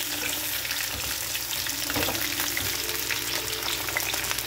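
Bitter gourd pieces frying in oil, a dense, even hiss and crackle that holds steady throughout with a few faint stirs underneath, near and moderately loud, without talking.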